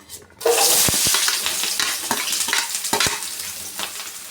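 Chopped onions drop into hot oil in a small ladle for gobi manchurian, bursting into a loud close sizzle that crackles on steadily, with a few sharp metallic taps of a spoon stirring against the ladle.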